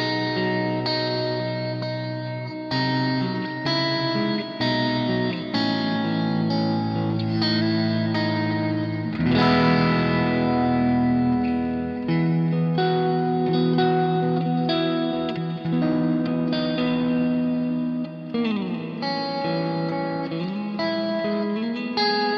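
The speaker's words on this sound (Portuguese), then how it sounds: "colocar aqui um timbrezinho para tocar o worship, né, com um reverbzinho mais forte" Electric guitar played through Zen Effects pedals (MG, AC V3 Plus, AC AT) with a strong, spacious reverb for worship-style ambience, sustained chords and notes ringing continuously with long washy tails for the whole stretch, no talking.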